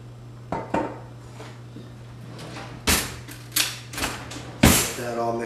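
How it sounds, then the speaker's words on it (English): Stuffing being mixed with olive oil in a bowl for Italian stuffed chicken breast, several sharp clinks and knocks of a utensil against the bowl spaced across the clip over a low hum. "Get that all mixed up here together."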